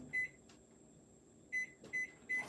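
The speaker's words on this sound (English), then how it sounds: "I do want to pop this in the microwave, not for very long" A microwave oven heating candy melts hums quietly, with several sharp, high electronic beeps, one near the start and three in a quick row near the end, plus a click and a door-like clunk.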